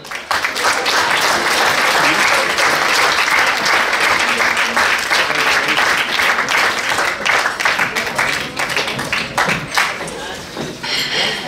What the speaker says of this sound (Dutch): Dames en heren, geef ze dadelijk applaus